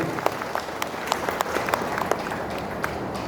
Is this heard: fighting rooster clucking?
no